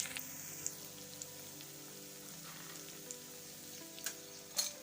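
Urad dal and peanuts sizzling in hot oil for upma, a soft steady frying hiss with faint crackles and occasional small pops, quiet and close, no voices.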